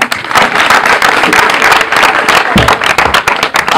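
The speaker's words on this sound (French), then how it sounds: "Applaudissez le lycée Chérif Shamsidine Haïdara de Vélingara" Loud, close applause and clapping from the audience at a school slam poetry event at Lycée Alpha Molo Balde, a lively, uneven burst of hands that carries on for nearly four seconds.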